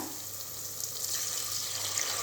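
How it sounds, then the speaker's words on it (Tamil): Water pours into a cooking pot of soaked rice and coconut milk for a Tamil kuska biryani, a steady soft splashing stream running without pause, fairly faint and close. "1 கப் தண்ணி சேர்த்துக்கோங்க."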